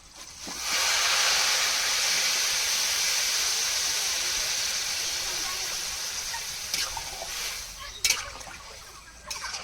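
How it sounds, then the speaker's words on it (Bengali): Water pours into a pot of fish heads for muri ghonto, a steady rushing hiss that starts abruptly, holds for several seconds and slowly tapers, followed by a few light knocks. "এবার এর মধ্যে পরিমাণ মতন জল দিয়ে দেব।"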